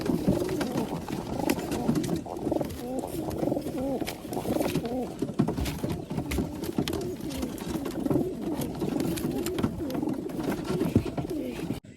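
Fancy pigeons coo in a steady, overlapping chorus of low, throaty warbles, continuous and close, with a busy flock filling the whole stretch and no talk.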